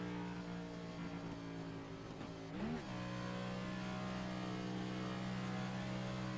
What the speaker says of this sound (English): He's definitely really playing with the throttle. We can hear that coming out of turn 2 now.